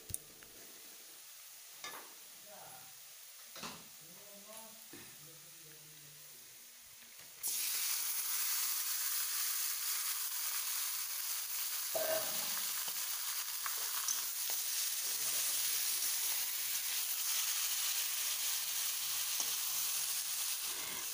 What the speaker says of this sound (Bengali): খুন্তির সাহায্যে মাংসটাকে খুব ভালোভাবে নেড়ে চেড়ে তেলের সঙ্গে মিশিয়ে নেব।